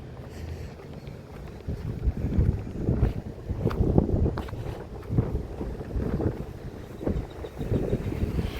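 Outdoor wind in Irving, USA, buffets the microphone in uneven gusts, swelling and fading as a rough low rumble for several seconds.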